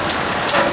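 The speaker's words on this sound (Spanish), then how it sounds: "el granizo, señores, en el techo." Hail drums on the roof of a pickup truck in a rainstorm, a dense, steady hiss of countless close impacts with no pauses and no voices.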